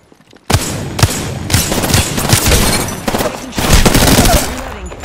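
R99 and Wingman fire erupts in the Apex Legends video game after a quiet moment, loud and close, with continuous rapid bursts and sharp single cracks for about four and a half seconds.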